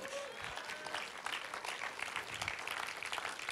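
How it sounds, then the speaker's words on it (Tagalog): Applause from a church congregation during a sermon, a brief burst of scattered clapping from a few people in the room, moderately quiet and steady for a few seconds. "Salamat po sa 5 pumalakpak."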